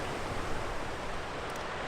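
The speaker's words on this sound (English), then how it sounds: "the distant murmur of Piute Creek grew into a steady roar" Piute Creek's rushing water fills a granite canyon in the Eastern Sierra as a steady, broadband roar, continuous and unbroken, with no voices over it.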